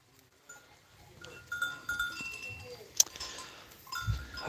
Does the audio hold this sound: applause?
no